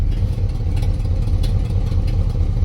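A 1972 AMC Ambassador idling steadily, a loud, even, close-up engine rumble with no talking.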